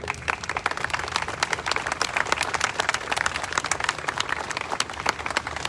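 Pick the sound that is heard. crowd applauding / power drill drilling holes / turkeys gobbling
crowd applauding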